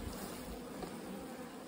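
Honey bees buzzing at a late-season bulk bee split colony, a soft, steady hum held evenly throughout with no voices.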